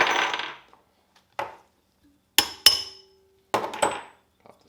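Metal engine bolts from a Briggs and Stratton Quantum small engine clink down one after another onto a hard surface, a handful of sharp, close separate taps with silent gaps between them.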